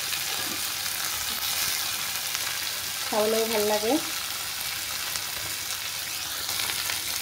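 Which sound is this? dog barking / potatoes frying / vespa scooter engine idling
potatoes frying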